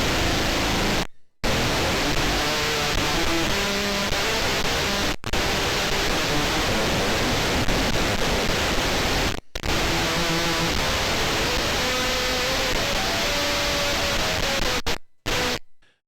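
Harsh, noisy wall of extremely distorted guitar through a WMD Geiger Counter effects pedal, almost like static, sustained loudly with a few abrupt cutouts.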